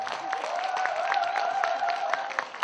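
Audience applauding a singer's stage set at a Korean traditional music concert in Paju, a steady wash of clapping with scattered cheers, close and continuous, with a tonal note running underneath.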